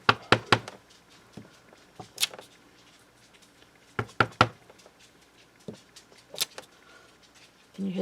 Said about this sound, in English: Can you hear the tip, tip, tip, tap? That's the dog.